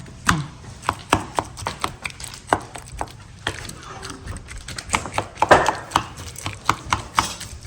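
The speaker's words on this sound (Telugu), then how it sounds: "నేను పక్కన ఉల్లిపాయ తరిగేస్తా" An onion is chopped on a cutting board in a home kitchen with quick, sharp knife strikes in an uneven rapid rhythm, heard close by, with faint background voices between the cuts.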